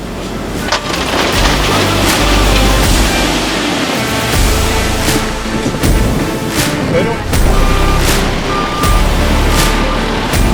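A truck dumps a load of concrete at a landfill, giving a loud continuous rumbling roar with heavy low thuds and repeated sharp bangs as the chunks fall, steady throughout.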